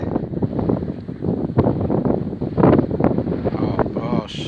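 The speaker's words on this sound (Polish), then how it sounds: "Wiatr 11 metrów na sekundę." Strong lakeside wind at 11 m/s buffeting the microphone in loud, gusty bursts, with a person talking over the roar.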